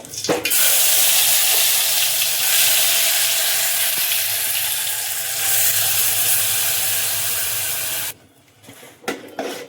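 Masala spices and triphala with cumin hitting hot oil for a Malvani fish curry, a loud, dense, continuous sizzle with stirring that cuts off abruptly near the end, leaving a few faint knocks.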